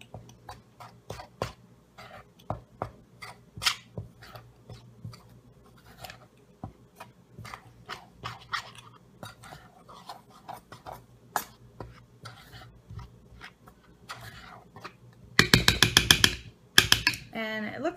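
Pizza dough mixture stirred in a bowl into a ball, with irregular scraping and knocking strokes close up, then a dense rattling burst near the end, under occasional speech.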